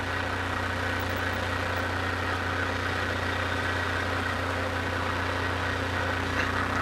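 A steady, loud engine drone fills the whole stretch without a break. It comes from a light aircraft's propeller engine with the RPM raised for landing during mountain flying.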